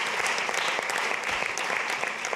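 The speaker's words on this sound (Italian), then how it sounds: "Fatelo sempre insieme l'applauso." A comedy-show audience claps together in a dense, even burst of applause that fills the room.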